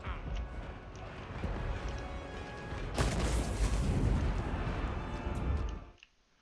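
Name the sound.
gunfire from Luthor Harkon's army, Total War Warhammer 2 video game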